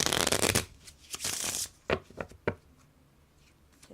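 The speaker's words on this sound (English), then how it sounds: "You do the overhand shuffle." A tarot-style oracle card deck shuffled overhand, giving a series of close, crisp riffling and flicking bursts that trail off into a few quieter taps.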